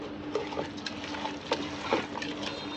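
Spices are stirred and mixed into beef for khichuri in a pot, with soft, irregular scraping and clinks over a faint sizzle, close and quiet.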